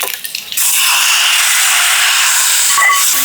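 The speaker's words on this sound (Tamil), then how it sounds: "இந்த அளவுக்கு நல்ல கோல்டன் ப்ரௌனாக அந்த தாளிப்பை போட்டு அப்படியே நாங்கள் இப்போ பருப்போடு சேர்த்துருவோம்." A hot golden-brown tempering with dried chillies goes into dal for a Sri Lankan-style curry, bursting into a loud, sustained hiss after a brief quieter moment, close and steady to the end.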